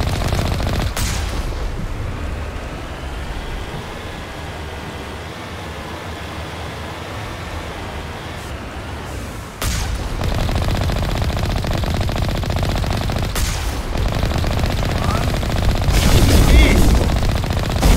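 Turrets firing machine guns during the Siege of Virmire in the video game Mass Effect, loud continuous rapid gunfire bursts lasting the whole stretch, with a few sharper blasts breaking in.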